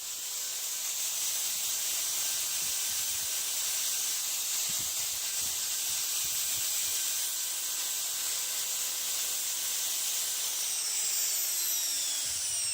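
A 50mm foam-backed sanding disc works a surface, giving a steady, loud abrasive hiss that holds evenly for the whole stretch.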